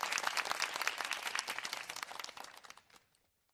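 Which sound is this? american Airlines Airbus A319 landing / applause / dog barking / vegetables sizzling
applause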